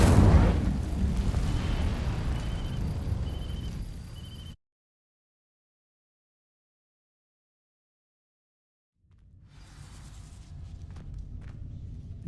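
An Incendio fire spell cast in Hogwarts Legacy bursts loudly with a roaring whoosh that fades over a few seconds, then total silence, before quieter ambient sound returns.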